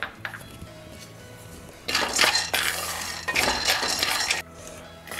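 A cup of peanuts is dry-roasted in a pan, with a quiet start and then two bursts of loud metallic scraping and clinking as a spoon stirs the rattling nuts against the metal.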